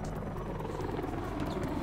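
A helicopter in the video game Mirror's Edge Catalyst gives a steady, moderately loud whirring rotor drone that continues without a break.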